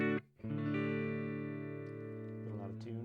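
Electric guitar played through a Musiclily Crunch Distortion pedal on its clean channel: a chord is struck, cut off briefly, then struck again and left to ring in a long, steady, clean sustain, with a light restrum near the end.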